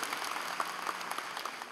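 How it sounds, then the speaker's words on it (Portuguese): Congregation applauding during a Sunday family church service, a steady dense wash of many hands clapping together for under two seconds, moderately loud with no pauses and no clear voices on top. "Pode aplaudir."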